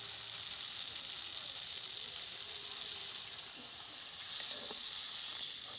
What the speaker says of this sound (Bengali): এবার দেখো মশলাটা ভাজা হয়ে গেছে, তেল ছেড়ে দিয়েছে। এবার আমি জলটা দিয়ে দেবো।